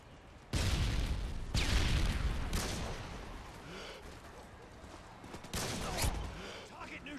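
Call of Duty frag grenade and gunfire in a Search and Destroy match: heavy booming blasts and rolling gunfire, loud and dense, with a second strong burst late on and faint voices mixed underneath.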